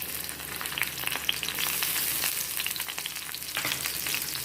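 Garlic sizzles and crackles in hot oil in a pan as stuffing for vegetable momos, a dense, loud, continuous frying hiss with scattered pops, close up and without talk.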